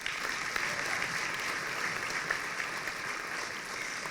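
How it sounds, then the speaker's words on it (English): Steady, dense applause from a large audience at a civic leadership competition event in Cleveland, a continuous wash of clapping lasting throughout without pauses. "Give yourselves a huge round of applause."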